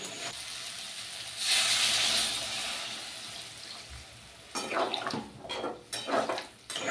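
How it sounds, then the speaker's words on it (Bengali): Water poured into a simmering masoor dal fritter curry in a pan, a steady hissing pour near the start followed by clinks and stirring sounds of pot and utensil, close with no talking. "এরপর আমি এখানে জল দিয়ে দেবো।"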